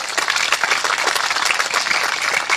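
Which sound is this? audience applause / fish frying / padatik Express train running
audience applause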